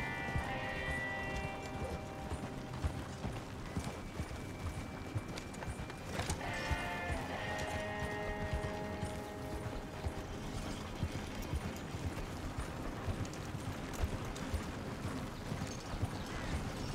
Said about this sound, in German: Ich reite lieber mein Pferd hinterher.